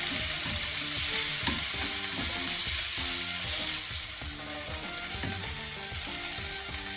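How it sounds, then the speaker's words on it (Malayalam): Chopped tomato hits onions in a hot pan and sizzles loudly and steadily, with a dense frying crackle and occasional stirring scrapes, close up and uninterrupted by voices. "ഇതിലേക്ക് തക്കാളി ചേർത്ത് കൊടുക്കാം."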